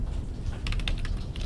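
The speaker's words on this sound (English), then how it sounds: "So I can start typing now, August" A quick run of crisp keystrokes taps out on a computer keyboard, close and distinct over a low steady background hum.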